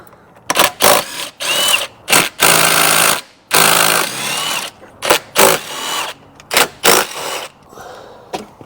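Rapid ratchet clicks loosening 12 mm bolts on an Acura TL Type-S throttle body, loud and close, in a string of short bursts with brief pauses between them.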